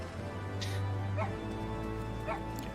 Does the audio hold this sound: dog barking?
yes